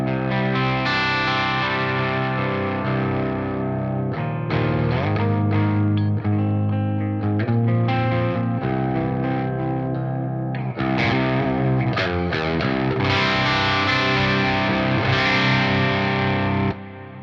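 An electric guitar plays chords and riffs through a Kraken Mark II amp on its crunch channel with no added effects, loud, driven and gritty, with sustained ringing notes and brief pauses between phrases.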